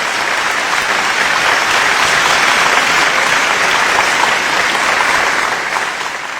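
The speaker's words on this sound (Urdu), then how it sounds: "ایک بار پورا صدن اپنے دونوں ہاتھ اٹھا کر زوردار تالیوں کے ساتھ آدرنیہ منور رانا صاحب سے یہ انورودھ کرے" A packed hall of listeners bursts into loud, sustained applause for the Urdu poet Munawwar Rana, a dense wall of clapping that holds steady the whole time and eases slightly at the end.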